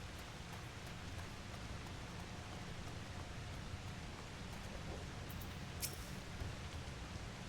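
Steady rain falls in a thunderstorm in Final Fantasy XIV Dawntrail. It is a faint, even hiss of drops, with a few tiny crackles near the end and no clear thunder.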